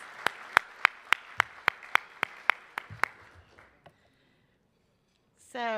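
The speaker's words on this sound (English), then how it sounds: "Let's please give them a round of applause" Applause at a Hispanic businesses luncheon event: about a dozen sharp, evenly spaced claps over three seconds, clear and moderately close, then fading out before a voice starts speaking.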